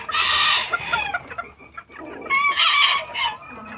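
Chickens cluck and call close by, a white hen penned with a Lemon Blue Sport rooster, with a crowing-like call and several short clucks in two loud bursts.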